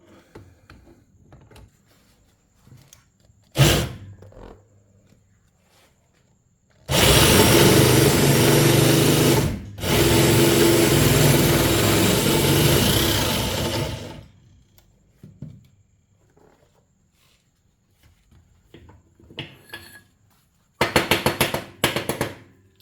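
A power drill whirs loudly for several seconds in two long bursts, with a brief pause between them, then a short final burst after quieter clattering and handling noises, while building a 50cc speedway sidecar frame.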